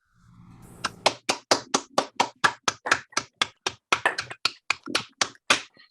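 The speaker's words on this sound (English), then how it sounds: "give our wonderful players a round of applause" A single pair of hands clapping for orchestra players over an online call, about twenty sharp, evenly spaced claps close to the microphone, briskly rhythmic, with a brief murmur at the start.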